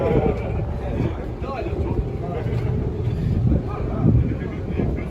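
Steady wind buffets the microphone on the upper deck of a Seatran ferry from Donsak to Koh Samui, Thailand, over a low engine rumble and rushing water, continuous and loud throughout.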